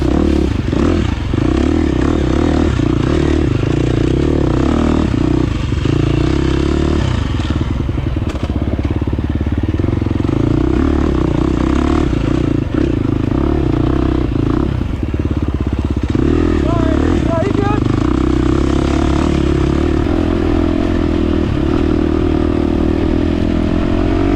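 A KTM 350 XC-F dirt bike races along a dusty, rocky mountain trail, its four-stroke engine loud and close throughout, revving and shifting with clatter from the terrain.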